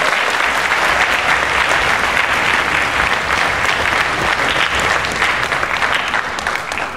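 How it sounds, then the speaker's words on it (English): A crowd at the California Music Education Association Capitol Section 2024 gathering breaks into loud, close applause, a thick, even wash of clapping that carries throughout and eases slightly at the very end. "can we give each other a round of applause for that?"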